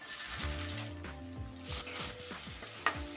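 Shallots fry in hot oil, sizzling steadily while a utensil stirs and scrapes in rhythmic strokes, close up, with a brief sharp clink near the end.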